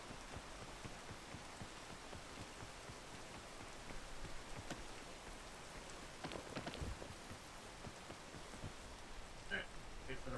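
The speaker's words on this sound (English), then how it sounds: "Fucking rain." Steady rain falls throughout on a mountain peak or descent, a dense continuous patter with scattered louder drops and a faint voice briefly underneath.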